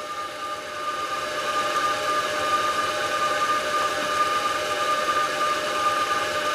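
A model locomotive fitted with a Zimo sound decoder runs continuously, giving a steady hissing, humming engine sound with a faint tonal whine, close and even throughout, no talking.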